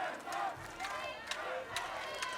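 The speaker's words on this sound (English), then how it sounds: "Bene of Quebec admonishing the crowd for cheering on Denmark in good fun." A crowd at a medieval combat world championship in Spottrup, Denmark cheers and shouts loudly in overlapping yells, with voices rising and falling around the fighting arena.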